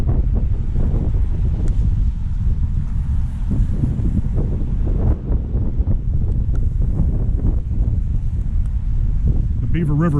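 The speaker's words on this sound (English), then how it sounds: "it's windy, it's rainy, and it's horrible out here" Loud gusting wind with rain during a flood buffets the microphone in heavy low rumbles beside a fast-flowing river, with a constant rushing outdoor wash and a voice speaking under the noise.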